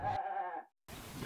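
A goat bleats once among Kenyan herders' livestock of goats, cows, donkeys and camels at a watering hole, a close, wavering cry that ends abruptly, followed by other outdoor noise.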